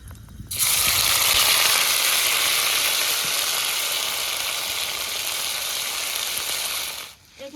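Green chili and ginger paste hitting hot oil with whole garam masala, bursting into a loud, dense sizzle that holds steady for several seconds before cutting off abruptly.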